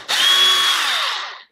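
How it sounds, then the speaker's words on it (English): A power drill whines up sharply, runs at high speed for just over a second, then spins down, close and loud. "Pre-drilling."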